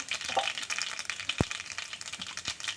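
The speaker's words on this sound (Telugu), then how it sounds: "ఇప్పుడు నూనె కాగిందండి. ఆవాలు, పచ్చెనపప్పు, సాయమినపప్పు వేసుకున్నాము." Mustard seeds and lentils crackling and sizzling in hot oil during tempering, a soft close frying hiss with a few sharp pops and spatters.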